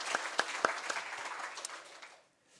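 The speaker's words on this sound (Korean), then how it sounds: "우리 하나님께 영광의 박수 올려드리겠습니다." A church congregation applauds during a Korean Sunday worship service, a short burst of close, crisp claps that thins out and fades to near silence within about two seconds.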